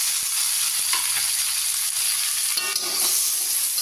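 Tomatoes sauté in a frying pan for a beef dish, making a dense, loud sizzle that holds steady, with a few clicks and scrapes from stirring partway through.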